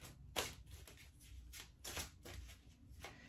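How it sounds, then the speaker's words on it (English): Tarot cards are shuffled by hand close up, a quiet run of soft riffling bursts coming in an uneven rhythm, with no talk over them. "I'm just going to shuffle these a bit."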